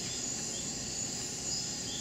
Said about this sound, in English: We have a few frogs, a few katydids.